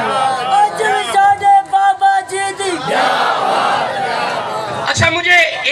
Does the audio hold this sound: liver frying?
no